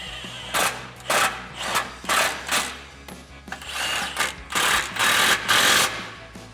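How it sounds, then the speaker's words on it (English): An impact wrench with an 18mm socket tightens two sway bar bolts on a RAM 1500, firing in repeated loud, short rattling bursts separated by brief pauses. "we're gonna take an 18mm socket and an impact. We're gonna tighten down these 2 bolts."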